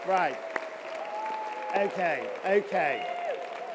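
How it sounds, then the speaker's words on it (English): A shy round of applause from an audience at an entrepreneurs' launch event, light and scattered clapping that swells briefly and fades, mixed with audible talking and laughter throughout. "let's hear what a round of applause might sound like"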